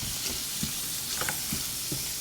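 Spoon stirring food in a pan, soft scraping strokes repeating about every half second over a steady background sizzle, close and fairly quiet, no voices.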